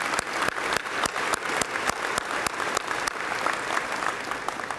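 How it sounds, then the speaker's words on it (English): Annual chamber meeting audience giving a round of applause, a steady mass of clapping with sharp individual claps standing out throughout. "Let's give them a round of applause for what they do for our community."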